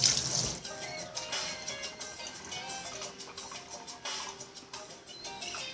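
Running tap pouring into a kitchen sink while hands are washed, an uneven splashing stream near and moderately loud, with no speech.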